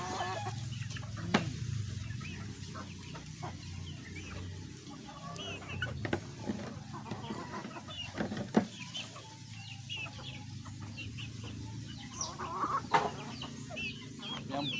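Pet chickens cluck softly and intermittently while feeding outdoors, a low scattered chorus of hens with occasional sharper calls and faint background noise.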